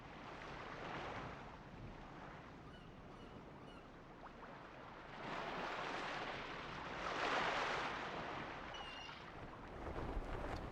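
Wind-blown ocean water and waves from the PS2 role-playing game Suikoden IV, a steady broad wash that swells and surges in loudness around the middle and end, with no voices.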